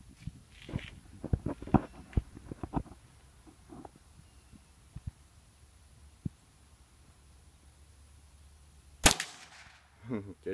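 A Davy Crickett youth rifle fires a single sharp crack near the end, following a run of clicks and handling noises close by, with quiet stretches between.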